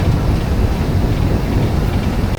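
Heavy rain and gusting wind during a boat trip on the Mekong River toward Luang Prabang, a loud, constant broadband roar with wind buffeting the microphone and no talking.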